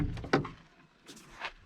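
The rear door of a 1998 Land Rover Wolf 110, a bare-interior military utility vehicle, is pulled shut with a strap: a quick rattle and a solid close-miked thunk, then faint metallic rustles and clicks, no talk.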